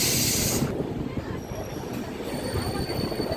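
Train 16504 from Tirupati pulls into Chennai Central, opening with a loud high-pitched wheel squeal that cuts off and gives way to a steady rumbling clatter of railcars, with thin metallic whines lingering on top.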